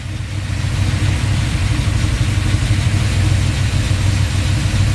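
A freshly rebuilt Pontiac 470 V8, enlarged from a 400, idles on its first start with a deep, steady rumble that stays close and even throughout.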